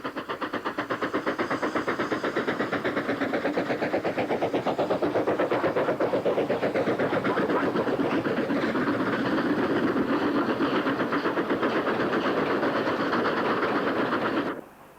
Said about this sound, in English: a football extra between Southport and Hull climbs near Cliviger behind 45055 of Southport, assisted by 92233 of Carlisle Kingmore